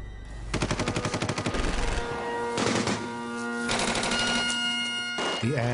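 Rapid bursts of gunfire crackle in quick rhythmic volleys, loud and sustained, with bright ringing tones mixed through the barrage, during a commando attack in Italy.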